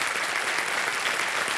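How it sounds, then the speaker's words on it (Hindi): Studio audience applause on a televised quiz show, a steady dense wash of many hands clapping that holds at an even level from start to finish, with no voices over it. "जोरदार तालियां।"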